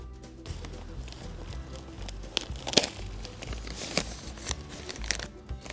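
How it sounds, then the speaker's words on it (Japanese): Scissors snip through a plastic potato grow bag, with crinkling and sharp cutting clicks close by amid steady rustling of the bag material, while planting potatoes. "こちらもちょっと袋をハサミで切ります。"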